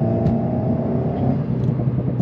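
An Alpine A110 sports car's four-cylinder engine idles and hums steadily with a low, throaty rumble, close by and continuous, with no talking.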